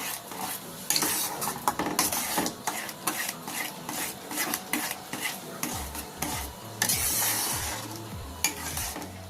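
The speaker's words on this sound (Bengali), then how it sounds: "নাড়াচাড়া করে মিশিয়ে নেব। এইভাবে নাড়তে থাকতে হবে।" A spoon scraping and stirring ripe mango pulp in a pan as it cooks into jelly, with continuous rasping strokes over a soft bubbling sizzle, close and steady, no talking.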